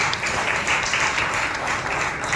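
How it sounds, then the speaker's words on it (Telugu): A church congregation applauds loudly and continuously, a dense wash of many hands clapping together that fills the room for a couple of seconds. "బిగ్గరగా చప్పట్లు కొట్టి ప్రభువును మహిమపరచండి"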